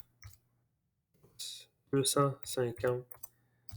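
A few sharp, isolated clicks on a computer keyboard as text is entered on a lathe setup sheet, with brief spoken words in between.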